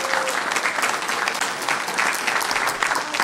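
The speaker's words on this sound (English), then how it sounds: "please join me in giving our Ballet Folklorico program and guests a round of applause again" Warm crowd applause for Ballet Folklorico dancers and guests at a City of Commerce event, a steady dense wash of clapping from many hands at moderate distance.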